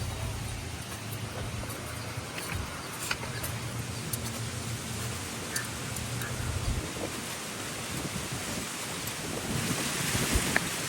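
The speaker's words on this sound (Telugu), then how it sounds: "ఏం గాలి అబ్బా!" Strong wind blows outdoors and buffets the microphone for about eleven seconds. The roar is continuous and rumbling and swells slightly toward the end, with no voices.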